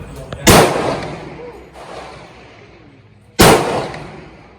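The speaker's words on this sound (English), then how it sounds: "Anybody shooting that 338 Lapua? Big gun, huh?" A .338 Lapua rifle at a gun range fires two booming shots about three seconds apart, each sharp crack trailing off into a long echoing decay, with faint voices around.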